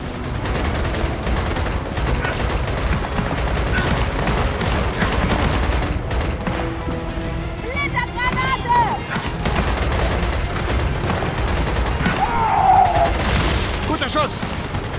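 Gunfire in the video game Gears of War 4, dense rapid automatic bursts and booms filling the whole stretch at high volume, with shouted soldier voices breaking through briefly.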